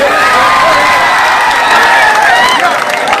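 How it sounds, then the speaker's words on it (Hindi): A dense, loud crowd roar at an outdoor political rally, cheering and shouting with clapping mixed in, sustained and close throughout. "पीछे वाले जोरदार इनके लिए तालियां बजाइए"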